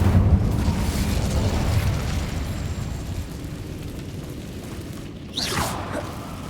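The Incendio fire spell is cast in Hogwarts Legacy, a loud fiery burst and roar that fades out. A second rushing whoosh flares up near the end.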